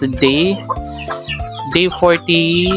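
Chickens clucking and squawking close by at a rural farmyard in the Philippine province of Oriental Mindoro, overlapping loud calls with a hint of crowing, fairly loud, and a voice speaks briefly among them.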